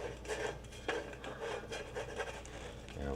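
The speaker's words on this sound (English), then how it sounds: "I'm just rubbing it around the sides now." Beef tallow is rubbed around the inside walls of an old-fashioned baking pan for cinnamon rolls, giving soft repeated scraping and rasping strokes up close, rhythmic and unaccompanied by talk.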